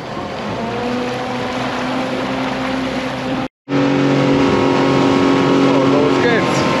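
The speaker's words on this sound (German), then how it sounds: "Ja, der Motor ist gleich angesprungen." A steady, loud motorhome engine drone with a low rumble runs throughout, briefly cutting out for a moment before resuming, in southern New Zealand.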